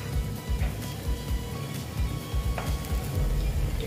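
Potato chops frying in oil in a pan, a soft continuous sizzle with a few gentle scraping and turning knocks as the pieces are flipped.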